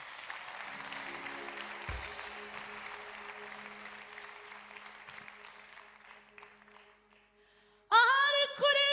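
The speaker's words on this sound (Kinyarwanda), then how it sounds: "reka tubanze dukomere Imana ayo mashyi" Church congregation applauding during a worship service, steady broadband clapping that gradually thins and fades over several seconds before a brief burst of other sound at the end.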